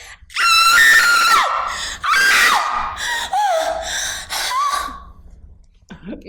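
A person screams loudly several times in succession, each cry a long, strained, wavering shout with brief gasping breaks between, the last one fading out.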